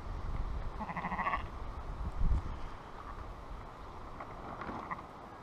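A cold newborn lamb bleats a few times outdoors on a wet, windy morning, the calls moderately close and partly masked by steady wind rumble.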